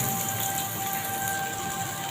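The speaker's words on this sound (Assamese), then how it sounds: "এয়া মই পিঁয়াজখিনি ঢালি দিছোঁ।" Sliced onions hit hot oil in a wok and fry with a dense, even hiss, loud and near, holding steady for a couple of seconds with no talk.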